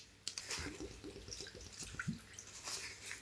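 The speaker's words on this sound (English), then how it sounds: "I'll pour the peroxide in." Hydrogen peroxide from a bottle poured into a Saver Seal type plastic bag, a soft sloshing, gurgling trickle of liquid with light crinkles and a small drip, close and fairly quiet.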